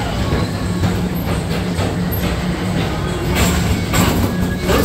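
The Tomorrowland Transit Authority PeopleMover at the Magic Kingdom rolls along its track with a steady mechanical rumble and whir, continuous and fairly loud, with faint rhythmic clicks and no voices.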